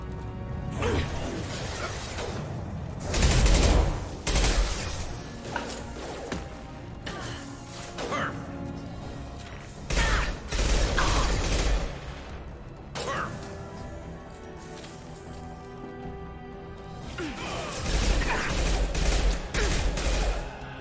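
Rifle fire in Mass Effect 2 comes in repeated loud bursts of shots spread across the stretch, with mechanical clanks and impacts between them.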